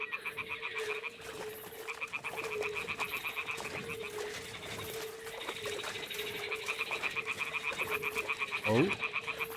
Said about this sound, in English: the toads are croaking here